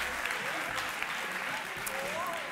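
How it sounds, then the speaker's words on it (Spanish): Applause from a studio audience on a live Spanish television show, welcoming a guest joining over Skype; continuous, fairly soft clapping heard throughout, with faint voices in the background. "fuerte aplauso para Salvador Raya."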